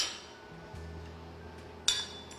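A metal spoon clinks sharply once against a pot while seasoning is stirred into two cups of water, following a quiet stretch with a low hum in the background.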